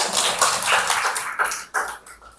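An audience at a school event claps for a guest speaker, a brief burst of uneven, fairly close handclaps that rises and falls in short waves.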